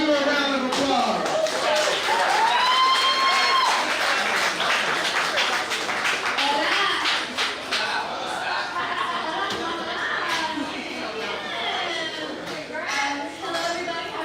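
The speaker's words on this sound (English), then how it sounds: "Christina Kayonis, y'all give her a round of applause" Audience applause for a performer at an NFL Men in Black honoree event, scattered clapping and crowd chatter that rises after a brief whistle-like tone, with talking mixed in over a lively room.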